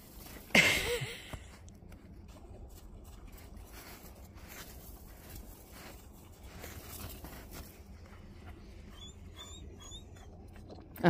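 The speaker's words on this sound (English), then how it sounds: "Is that the sound of brain freeze in a dog?" A dog out in fresh snow gives a sharp close yelp, then pants and whimpers softly for several seconds, faint and near, with small high cries toward the end.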